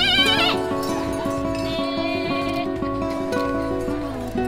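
Actors dressed as sheep bleat loudly in a stage performance, voices imitating a flock with overlapping, wavering bleats that carry on without pause.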